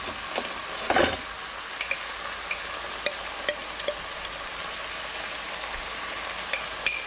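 Pork with bagoong shrimp paste sizzles gently in a pan while being stirred, a steady low fry dotted with light scraping ticks and one louder clunk of the utensil early on.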